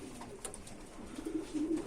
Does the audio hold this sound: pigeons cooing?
yes